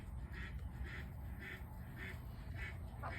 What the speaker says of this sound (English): That duck is mad at me because I have locked her in.